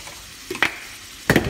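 Red bell pepper in a frying pan gives a soft sizzle as a utensil scrapes and stirs it, with two short clattering strokes over a quiet hiss.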